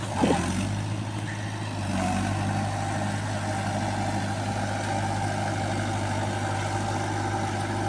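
An old 1996 Mahindra 575 tractor engine runs steadily nearby, a continuous mid-low diesel drone with a brief rise at the start and no speech.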